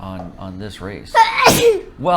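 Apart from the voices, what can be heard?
sneeze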